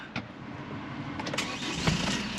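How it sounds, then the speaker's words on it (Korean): A 2014 Hyundai Porter 2 super-cab cargo truck with an automatic gearbox starts up, giving a short cranking whir that catches into a low, steady idle nearby. "시동을 한번 걸어 보겠습니다"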